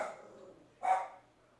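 A dog barks once in a single short, moderately close bark after a faint lower vocal sound, in an otherwise quiet room.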